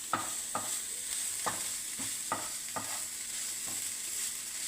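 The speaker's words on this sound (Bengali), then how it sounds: "একটু ভেজে নেবো ভালো করে লাল করে ঘি দিয়ে গাজরটাকে।" Grated carrots fry in ghee for gajar halwa, a steady close sizzle broken by about seven sharp scrapes of a spoon stirring against the pan at an uneven pace, with no voices.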